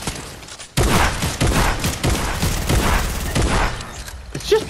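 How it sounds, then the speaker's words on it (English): A burst of dense gunfire from the Fortnite video game, rapid overlapping shots and thuds following a quiet start, loud and close, with players talking over it. "Oh, Ben's being shot"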